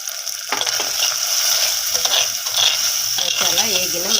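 Masala spices with turmeric, salt, curry leaves, green chilli, garam masala, coriander powder and chilli powder fry for a prawn potato curry, making a loud, dense, continuous sizzle with faint stirring scrapes close by.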